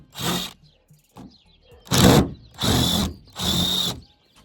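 A power drill in a camper van build runs in four bursts of roughly half a second to a second each, loud and close, with short quiet gaps and small clicks between them and no talking.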